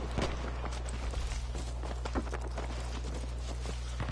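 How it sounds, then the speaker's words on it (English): Rapid footsteps from a player moving through a competitive shooter video game match, a quick run of soft, crisp steps over a steady low game hum, with no talking. "I hear the footsteps."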